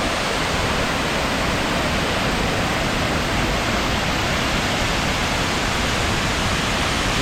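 Punnayar waterfall in Kerala roars with rushing water, a steady, dense broadband wash that stays loud and continuous with no other sounds.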